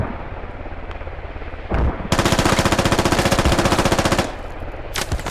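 A long burst of full-auto gunfire in the tactical shooter Squad rattles out rapidly and loudly at close range, set against a steady helicopter-like drone, with a brief shot just before and another short burst at the end.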